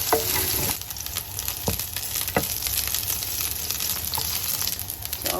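Garlic frying in hot cooking oil in a pan, a dense continuous sizzle with a few sharp scrapes from stirring, close and fairly loud.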